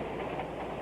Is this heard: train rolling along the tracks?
yes